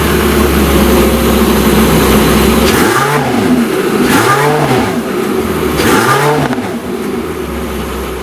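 Porsche 918 Spyder supercar engine cranking and catching, then revving loudly three times in a rising-and-falling rhythm over a rough idle, close and dominant throughout.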